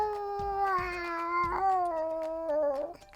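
A person voices a drawn-out cat meow, a clear rising-and-falling imitation wail heard close and alone, ending in a brief trailing note.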